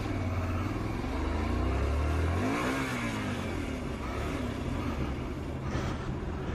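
A motorcycle engine revs and pulls away, its pitch rising then sweeping as it accelerates, loud and continuous over steady road noise.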